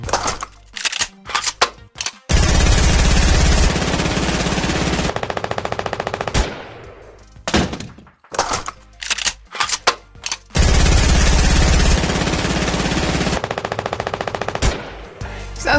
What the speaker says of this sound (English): shows a 3D animation of the reload and the actual sound of the gun as it's being shot